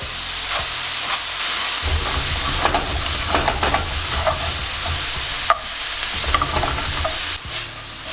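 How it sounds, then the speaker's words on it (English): Bean sprouts and broccoli slaw with onions, light soy sauce and pepper sauté in a wok, giving a steady loud sizzle with repeated scraping stirs throughout and no talking. "again you want to lightly saute these."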